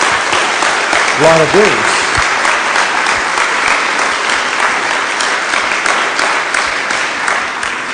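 A church congregation breaks into loud, continuous clapping that fills the room for the whole stretch, while a voice briefly speaks over it near the start.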